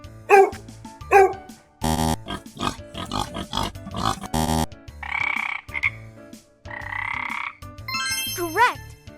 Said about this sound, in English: Frogs croak to find friends or warn others to stay away.